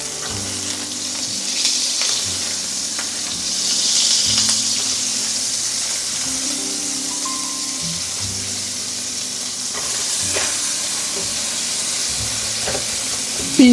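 Meat sears in a hot pan while it is flipped, giving a loud, steady frying sizzle with bursts of hiss and steam and some stirring and scraping noises; no talk.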